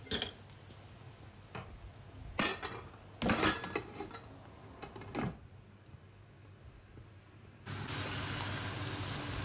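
Onion paste for chicken korma is stirred in a pot, with intermittent scraping and clinks of a spoon against metal in a few short bursts, then a steady soft hiss toward the end, with no talking.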